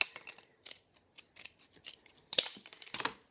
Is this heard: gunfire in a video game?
no